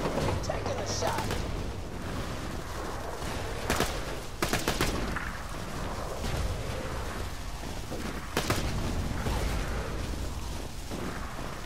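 A game firefight in Borderlands 2 with gunshots and booms over a dense, continuous battle din, loud sharp cracks breaking through at intervals.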